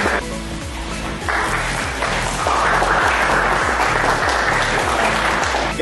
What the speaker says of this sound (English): I want to clap for you.